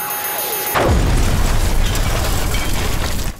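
An explosion goes off suddenly after a quiet moment, a loud deep boom that fills the space and rolls on with heavy rumbling for several seconds.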